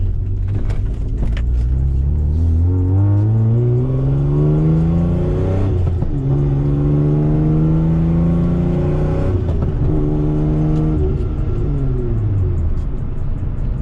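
A big truck engine revs loudly and close, climbing in pitch through several long sweeps that each fall back to idle before rising again.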